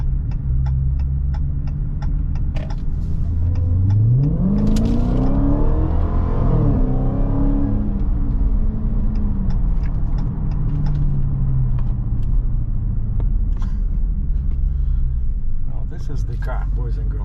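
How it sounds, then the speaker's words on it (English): A car engine runs steadily while driving, a low continuous rumble with a rising and falling whir through the middle, heard under a navigation voice and someone talking. "This is the car, boys and girls."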